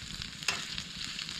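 Food sizzles and fries in a pan on a Snow Peak camping stove, with a steady close crackle and one brief stirring scrape partway through.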